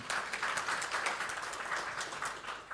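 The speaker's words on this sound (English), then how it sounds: "You may applaud if you want to, if you agree with the stance." An audience at a Namibian mid-year budget review breaks into steady applause, a dense wash of many hands clapping at moderate distance that holds evenly throughout without talking.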